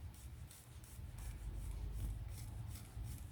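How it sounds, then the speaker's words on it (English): A fingertip gently rubs fresh covering onto the frame of a model Blackburn Monoplane, making soft, faint, rhythmic brushing strokes that repeat steadily with no talk. "then I just gently rub with my finger"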